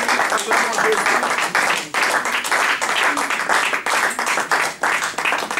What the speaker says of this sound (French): Est-ce qu'on peut acclamer très fort le roi de gloire?